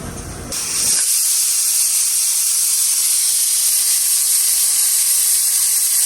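A pressure cooker on a kitchen stove releasing steam, a brief rumble giving way to a loud, steady high hiss and whistle that carries on unbroken.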